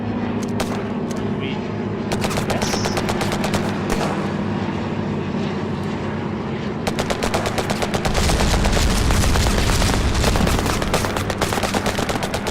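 Dense bursts of gunfire rattle through a Battlerush 2 combined-arms battle, rapid machine-gun volleys layered over a low engine and aircraft rumble, getting louder and heavier in the later seconds.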